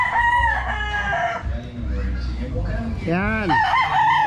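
A gamefowl stag from a red gamefarm crows loudly and close by, while someone talks over the drawn-out call.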